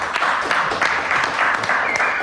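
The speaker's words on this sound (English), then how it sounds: "let's give them both a round of applause" Audience applause for two guests at a panel-style talk, a steady wash of clapping lasting a couple of seconds at moderate level, with no distinct voices over it.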